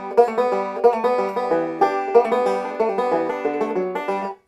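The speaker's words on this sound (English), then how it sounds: "A pull-off sounds like this." Three-finger style banjo picking featuring pull-off notes, a quick stream of bright plucked tones with snapped hammered-off notes, close and alone before a short stop at the end.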